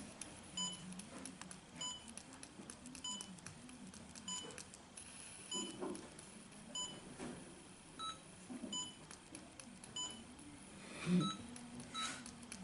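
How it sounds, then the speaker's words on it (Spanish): An MQ2 gas sensor alarm on a keypad-controlled circuit signals a high gas leak with a run of faint electronic beeps. The short tonal bleeps repeat at intervals over quiet background hiss. "se encendió la alarma de la alta fuga de gas"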